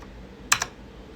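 Two quick keystrokes on a computer keyboard, crisp and close, in an otherwise quiet room with faint background hum.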